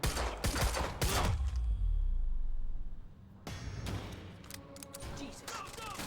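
Gunfire in the video game Quantum Break: loud, close bursts of rapid shots at the start, a brief lull with a fading rumble, then another round of sharp automatic fire.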